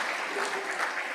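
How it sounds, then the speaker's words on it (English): A conference audience gives a brief round of applause, steady mid-level clapping from many hands lasting about a second, with faint voices mixed in. "We should give Jennifer a round of applause"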